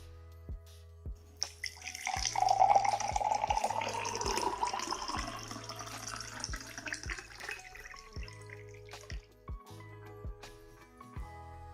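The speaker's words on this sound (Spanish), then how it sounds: "En el otro vaso vamos a verter agua fría." Cold water pours into a drinking glass in one steady splashing stream that swells for several seconds, then thins into scattered drips over a quiet background hum.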